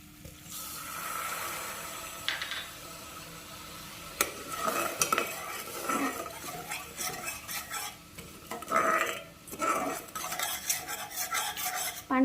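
Sugar caramelizes in a pan for rice kheer while a spoon stirs it, giving irregular scraping and clinking strokes over a soft sizzle, with louder bursts of stirring toward the end.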